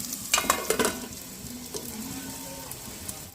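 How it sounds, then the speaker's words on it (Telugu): Potatoes fry in a pan for a spicy potato fry, giving a steady sizzle with a quick burst of utensil scraping and clinks early on, then settling into a softer continuous hiss. "బంగాళదుంప వచ్చేసరికి బాగా ఫ్రై అయింది కదండి"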